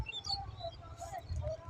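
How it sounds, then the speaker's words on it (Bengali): Small birds chirping faintly outdoors on a foggy winter morning near crop fields, with soft, scattered calls over a low background rumble. "পাখিগুলো চেঁচামেচি করতে আছে"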